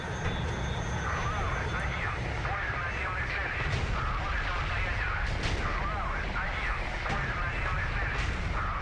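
Distant artillery fire in the WWII tank game IL-2 Sturmovik Tank Crew, heard from a KV-1S tank as scattered muffled thumps beneath a constant engine drone and rumbling battlefield noise.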